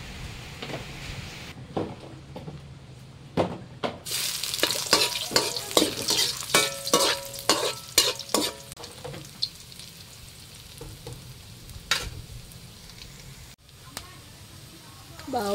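Ginger sizzles and crackles as it is stirred in hot oil in a pan, a steady frying hiss broken by repeated scraping clicks of the spatula, close and clear with no talking.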